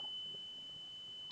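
A multimeter gives a single faint, steady high beep on continuity while a capacitor on a circuit board is probed, sounding quietly under a low background hum with no talk.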